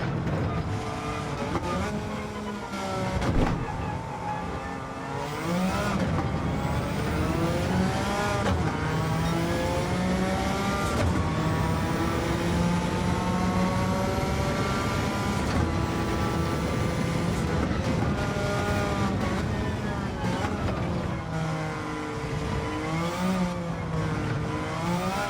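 A Suzuki Escudo race car in Gran Turismo 7 at Le Mans, engine loud and steady with rising and falling pitch as it revs through gear changes, alone with no talk.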